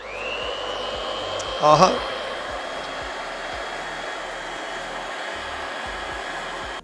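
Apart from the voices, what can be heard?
electric grinder machine switched on, grinding butter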